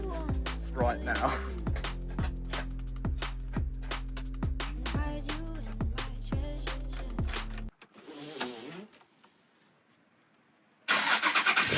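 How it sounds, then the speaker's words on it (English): A car engine cranks and catches after a clutch install in a driveway, then the sound cuts off, returns faintly and ends in a loud burst of running engine. "So this car is going to start right here, right now."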